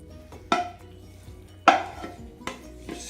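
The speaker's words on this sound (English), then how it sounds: "Get your noodle mix, pour into the pans." Rigatoni and beef noodle mix is poured and scraped into two baking pans, giving two sharp clattering bursts of pasta and utensil against metal with softer scraping between, fairly close and with no talking.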